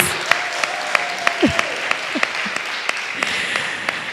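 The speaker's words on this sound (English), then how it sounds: "Please give her a round of applause." An audience at a community book event applauds to welcome the author, a steady wash of clapping with distinct individual claps standing out and a brief vocal sound partway through.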